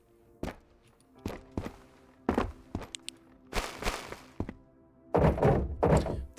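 Handling a military crate in the survival game Road to Vostok produces a series of hollow thunks and thuds with scuffing between them, building to louder, denser clattering at the end.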